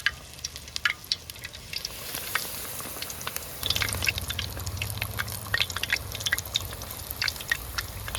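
Batter-dipped chilli bajji frying in hot oil, fine crackling and popping bubbles that grow louder and denser after a few seconds, close up with no talking.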